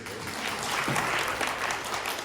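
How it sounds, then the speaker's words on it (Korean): A congregation claps in welcome during a Sunday church service, giving a moderate, steady round of applause that swells slightly mid-way and holds at a fairly soft level. "환영 박수 한번 쳐주세요."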